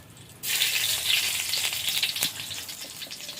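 Whole spices — bay leaf, dried red chilli, cumin, cinnamon and green cardamom — drop into very hot mustard oil with a sudden loud, steady sizzle that jumps in after a brief quiet moment and crackles on close by.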